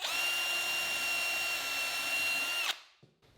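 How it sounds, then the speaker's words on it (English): A power drill whines at a steady high pitch for a few seconds while drilling a pilot hole in a wooden board, then cuts off abruptly, followed by faint clicks. "I'll first drill a pilot hole."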